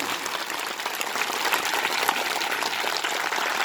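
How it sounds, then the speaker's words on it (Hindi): A crowd at an outdoor political rally claps steadily to welcome named party leaders, a dense continuous wash of applause heard from within the audience. "देखो सब तो ताली बजावत है"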